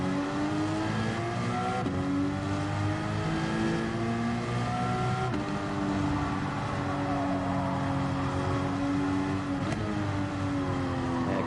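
A race car engine in Gran Turismo 7 at Lago Maggiore East drones loud and continuous, with pitch rising through each gear and dropping sharply at every shift, several cycles in a row with no talking.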